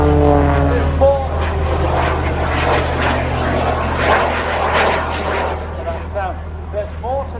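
Jet aircraft at the Blackpool Airshow 2024 in the UK, a loud continuous engine roar with broad rushing noise and a low steady hum, voices speaking intermittently over it.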